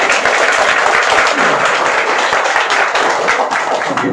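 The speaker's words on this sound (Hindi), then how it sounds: "एक बार अपने लिए जोरदार ताली बजाओ" A crowd at a network marketing training seminar claps loudly and continuously, a dense close wash of hand claps throughout.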